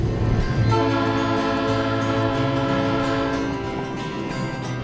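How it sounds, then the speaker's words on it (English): A train at Leadville, Colorado, on a scenic mountain rail ride, sounding a loud sustained horn chord that holds for several seconds over the low rumble of the moving cars. "How difficult of a job is it to actually run this train?"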